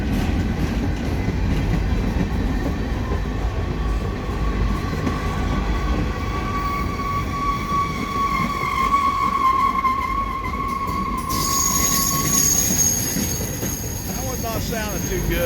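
A long freight manifest train of boxcars led by two SD40-3 locomotives rolls steadily past up close, with continuous loud wheel rumble, rail clatter and squealing wheel tones throughout.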